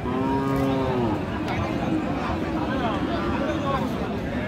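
Cattle low loudly nearby, a long drawn-out moo opening the clip over a steady din of crowd chatter and livestock noise at a busy outdoor cattle market in Aftabganj, Dinajpur, Bangladesh.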